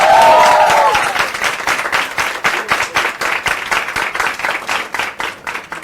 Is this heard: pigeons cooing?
no